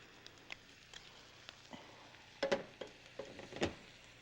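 Butter frying in a pan before cabbage goes in, a faint steady sizzle with scattered crackles and a few louder spitting pops near the end, no talking.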